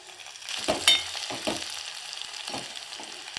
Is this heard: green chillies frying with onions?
yes